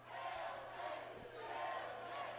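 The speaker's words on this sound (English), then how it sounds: "Crowd chanting, "Hail Sabin."" A wrestling crowd at an NWA TNA event in 2003 chants in a broad, sustained roar, a dense, fairly distant wall of many voices with no single voice standing out.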